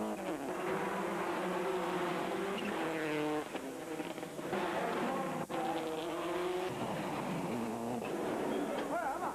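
Subaru rally car at a rallysprint at Punchestown, engine howling at high revs as it climbs through the gears in repeated rising sweeps, loud and close with brief drops at the shifts.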